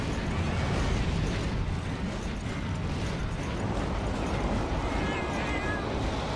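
A feline companion meows in Monster Hunter Freedom Unite amid dense game noise, with mechanical clanks and bursts layered underneath at a steady, loud level.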